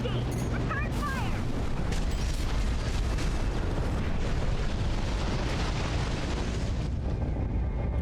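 Weapons fire and explosions in the video game Armored Core VI, a continuous dense roar of blasts and shooting, loud throughout, with a voice speaking over the battle.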